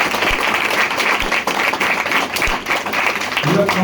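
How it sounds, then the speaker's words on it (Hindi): Audience applause in a packed branch office meeting hall in Mumbai on a rainy day, dense and steady clapping with a few sharp individual claps, close and loud, with a voice starting to speak near the end. "एक बार अपने लिए जोरदार तालियां"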